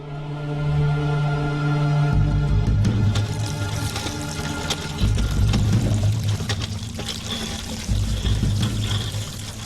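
Water pours steadily and loudly for several seconds, with splashing and gurgling and no talk.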